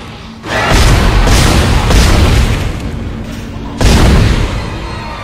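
Gunfire in the horror video game Dead Space: heavy booming blasts that swell and linger, one after another, loud and rumbling with a dense low roar filling the gaps.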